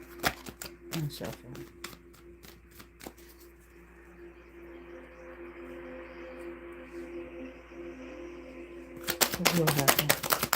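Tarot cards are shuffled in quick riffling bursts of crisp papery flutters, close and fairly quiet, with a pause in the middle before a final louder shuffle.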